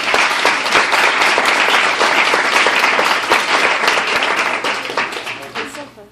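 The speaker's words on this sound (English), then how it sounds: "Can everyone please give Chrissy a round of applause for this?" An audience at an anti-bullying program gives a burst of loud, continuous applause that lasts about six seconds and fades slightly at the end.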